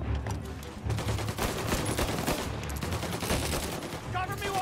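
Rapid gunfire from Mafia: Definitive Edition: dense, loud bursts of shots crackling continuously, with talk underneath.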